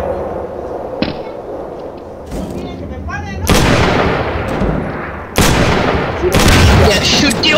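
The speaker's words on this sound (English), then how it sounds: "Yeah, shoot the oil drum!" Gunfire in a video game hits an oil drum, setting off heavy explosive booms: a sharp shot, then two loud blasts with rumbling, crackling tails. A voice speaks faintly under the din.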